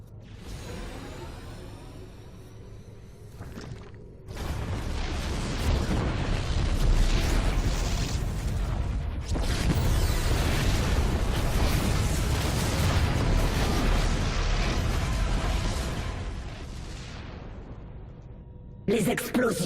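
Heavy explosions and rumbling blasts from the StarCraft 2 Heart of the Swarm video game roll on loudly for most of the stretch, with a brief quieter gap before a second long barrage, alone without talk.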